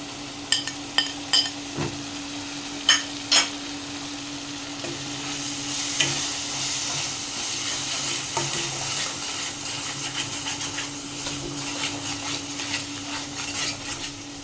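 Masala spices frying in oil in a pan for a chicken curry, a steady close sizzle with a few sharp knocks of the spoon early on and continuous scraping stirs throughout.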